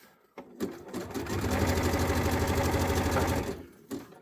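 A sewing machine whirs into a fast, steady run of stitching for a few seconds, with a few clicks before and after, sewing fold-over trim onto stretchy fabric.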